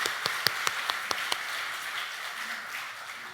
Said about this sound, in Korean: 우리 어버이 찬양대 찬양 다시 한번 뜨거운 박수로 감사드립니다.